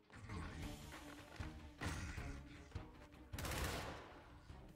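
Enemy gunfire in the tactical video game Gears Tactics, aimed at a character holding a Gnasher shotgun: dense bursts of shots and impacts with several loud, sharp peaks over a steady din of combat.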